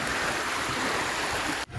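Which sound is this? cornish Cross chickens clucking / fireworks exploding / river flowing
river flowing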